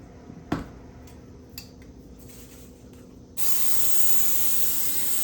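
Cooking spray hisses steadily from a can onto seasoned croutons with Parmesan, a loud continuous spray that starts suddenly partway through after a few faint clicks and handling noises.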